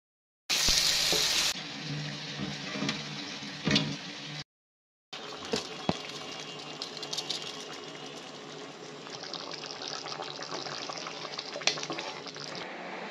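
Spiced potatoes sauté in a pan with oil and masala, a steady loud sizzle with scraping stirs and a brief gap of silence midway.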